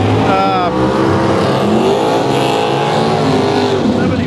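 A loud Pontiac-powered gasser drag car with a 400 bored out to 461 rumbles and revs nearby at a drag strip, its engine sweeping up and down while voices talk over it.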